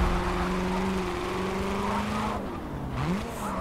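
The Christine car from Forza Motorsport 7 revving hard, a loud sustained engine drone that rises, dips and climbs again near the end, with a hint of tire squeal and no talking.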